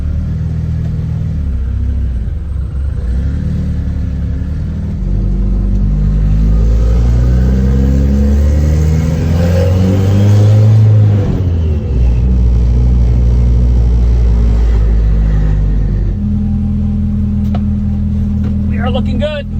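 A fully built, 900 hp-capable K24 Honda-swapped Porsche 911 runs loudly up close, its engine idling with a steady rumble, then revving up and easing back down, with a brief quieter stretch near the end.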